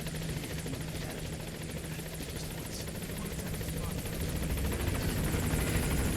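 The Pequod helicopter in Metal Gear Solid 5: The Phantom Pain approaches a landing zone, its steady rotor thrum and whine droning continuously and growing louder, with radio voice chatter over it.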